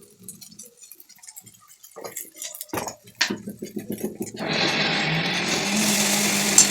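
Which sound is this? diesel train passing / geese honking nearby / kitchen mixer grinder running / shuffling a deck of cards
kitchen mixer grinder running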